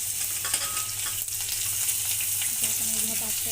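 Chopped onion sizzles and fries steadily in hot oil with cumin, mustard seeds and curry leaves on low flame for a bitter gourd curry, with occasional stirring scrapes, close and continuous.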